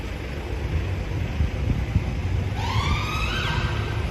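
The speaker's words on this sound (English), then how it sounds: "Oh, come on, another ambulance?" An ambulance siren passes along a London street, its wailing tone rising in from about midway and sweeping in pitch over steady traffic rumble and wind noise.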